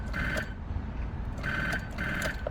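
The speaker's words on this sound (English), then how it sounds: "The old trim phone again." An old trim phone rings with a warbling electronic trill in three short bursts, fairly close and clear over a low, constant background rumble.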